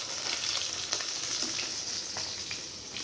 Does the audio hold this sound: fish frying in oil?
yes